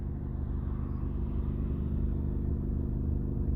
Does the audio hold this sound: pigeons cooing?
no